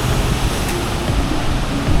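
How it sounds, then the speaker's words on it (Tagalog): Big ocean waves at Broken Beach in Bali, a loud continuous roar of surf and crashing water with wind rumble on the microphone, close and unbroken. "Big waves!"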